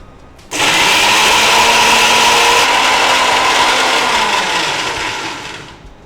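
Mixer grinder loudly grinding a coconut, garlic and salt chutney with a little water, starting abruptly after a brief pause and running as a steady whirring roar that eases slightly before cutting off.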